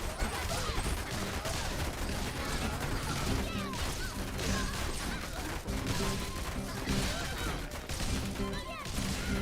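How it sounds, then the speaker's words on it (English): Continuous machine gun fire and crashing impacts in a video game battle, a dense, loud, unbroken barrage of rapid shots and hits with game effects layered throughout. "these machine guns are doing nothing"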